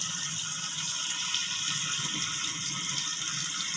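Water spurts out under pressure in a steady, loud rushing hiss that holds at the same level for the whole stretch, close by and with no voices.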